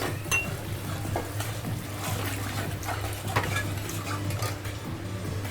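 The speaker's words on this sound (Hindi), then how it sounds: "तो अब हम पानी डाल देंगे, ये मसाला का पानी मिक्सर का, ये हम डाल देते हैं।" Mixer-ground masala water is poured into a pan of egg gravy, giving a continuous watery splash and stir with occasional clinks of a utensil against the pot, beneath a steady low hum.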